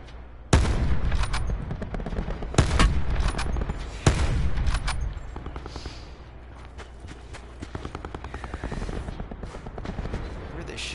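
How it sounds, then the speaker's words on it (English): Gunfire in the battle royale game Call of Duty Blackout: a few loud, sharp shots at the start, then quieter scattered shots and rapid distant bursts running under game ambience. "Where are they shooting at here?"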